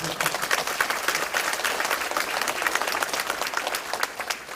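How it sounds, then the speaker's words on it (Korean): Guests at the inauguration ceremony of Incheon's superintendent of education applaud the National Assembly members, a continuous, even patter of many hands clapping at moderate volume. "우리 국회의원님들 박수 한번 주시죠"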